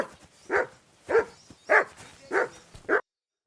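A dog in Kingdom Come: Deliverance 2 barks five times in a steady, evenly spaced series, moderately close, with faint background ambience and no speech.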